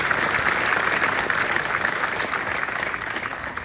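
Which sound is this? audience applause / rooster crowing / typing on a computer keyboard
audience applause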